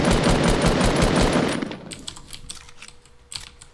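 Rapid gunfire in Fortnite rattles in a dense, loud burst for about a second and a half, then breaks into scattered sharper shots and clicks that fade, with no voices.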